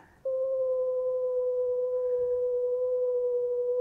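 A steady, clean electronic hum in an AI-generated clip of a sailboat in the stratosphere, a pure sustained tone with a fainter higher overtone, starting abruptly and holding evenly throughout.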